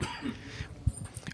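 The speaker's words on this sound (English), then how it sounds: "That was my running up the hill cough." A person coughing after running up a hill in dry, dusty conditions: a few short, husky coughs close to the microphone, spread over a brief moment.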